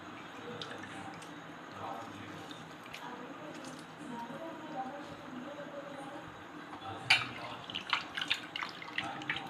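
Raw prawns being washed in water with turmeric, salt and lemon juice: steady close dripping and splashing with soft squishy handling, growing into sharper wet splashes and clinks near the end.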